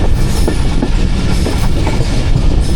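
The Rehman Baba Express (47 UP), a Pakistani passenger train, rumbles steadily toward Tando Adam Junction at close range, with a dense, continuous rolling roar of carriages and faint wheel clatter and no voices.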